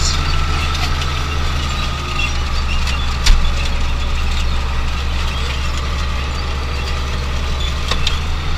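A tractor engine runs steadily nearby, a loud low rumbling drone with a brief clank partway through.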